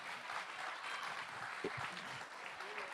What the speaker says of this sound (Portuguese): Pode aplaudir o Senhor, glória a Deus.